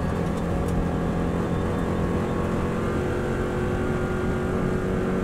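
A Subaru WRX STI is driven flat out on an Isle of Man road course, its engine a loud, continuous roar with constant road and wind noise and no pause throughout.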